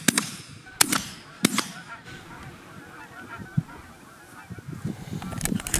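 Geese honking in the distance during a goose hunt, mixed with a few sharp gunshot cracks at the start and rustling movement nearby.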